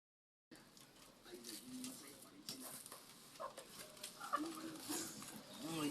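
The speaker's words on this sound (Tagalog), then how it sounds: "meron na kaming aalagaing manok. May nagbigay po sa amin aalagaing manok." Chickens received as a gift cluck and stir close by, with scattered fowl calls and rustling heard under people talking.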